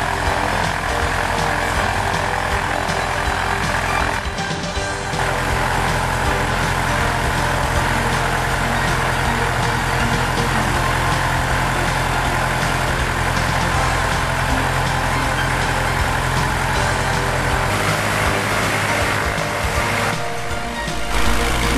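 Aircraft piston engine fitted with SmartPlugs running at full throttle, a loud, steady droning roar with a low pulsing hum, continuous and close, with a brief dip in tone near the end.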